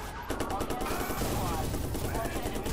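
Grenade blasts and rapid gunfire in the Watch Dogs video game, a continuous loud clatter of shots with heavy rumble, with a voice talking over it.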